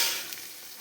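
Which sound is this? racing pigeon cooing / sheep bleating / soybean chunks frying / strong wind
soybean chunks frying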